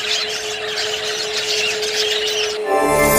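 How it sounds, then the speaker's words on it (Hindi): Birds squawk and chirp in a dense, loud chorus, joined near the end by a sustained tonal call, fitting a koel among songbirds in a rainy-season setting. "चिड़िया चहकी कोयल कूकी,"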